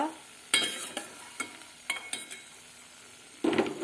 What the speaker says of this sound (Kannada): ಗೇರು ಬೀಜವನ್ನು ಹಾಕ್ಕೊಂಡು ಸ್ವಲ್ಪ ಕೆಂಪಗೆ ಹುರ್ಕೊಳ್ತಾ ಇದ್ದೀನಿ